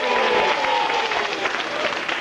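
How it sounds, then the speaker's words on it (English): Studio audience applause for Jesse Spencer on a live Saturday-morning TV show, loud, dense and steady clapping filling the whole moment with a faint crowd murmur beneath. "Round of applause for Jesse."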